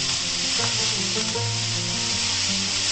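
Onions and garlic fry and sizzle in a pan for a water leaf thoran while being stirred, a loud steady crackling hiss up close with soft scraping movements.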